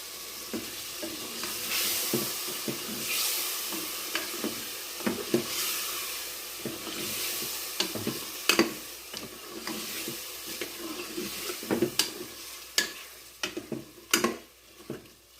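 Chicken fries in a karahi with a steady sizzle, while a spoon stirs and scrapes it in repeated sharp clicks and knocks. Sounds are close and there is no talk.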